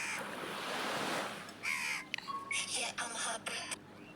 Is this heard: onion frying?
no